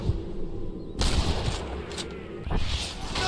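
Gunfire in the Western video game Red Dead Redemption: a dense crackle of shots with loud bursts near the start, middle and end, rising over a steady rumble with no talk.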